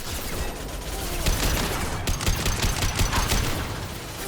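Gunfire in the video game Mass Effect Legendary Edition: a dense, continuous fusillade of rapid shots and impacts, loud and close, with no pause across the stretch.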